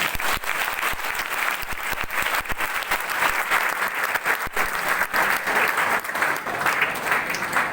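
Seminar audience claps loudly and continuously for several seconds, a dense crowd of hands with sharp individual slaps standing out, and no talking over it.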